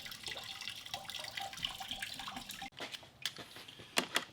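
Water trickles and drips out through the weep holes of a shower system's liner, a steady wet splashing with scattered sharper drips, fairly quiet and close, with no voices.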